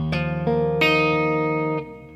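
An electric guitar picks a chord shape in a few plucked notes that ring together and decay, close and clean, with no talking.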